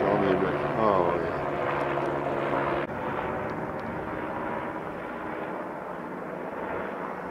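Low engine drone with rhythmic rotor-like thumping, loud and close at first, then a steady, slightly softer rumble continues overhead.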